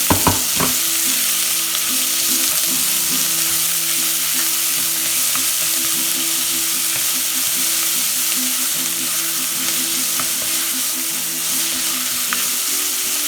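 Onion sizzles in hot oil in a pan for chickpea gravy, a loud, even frying hiss that runs throughout, with a few utensil knocks at the start, close up and with no voices.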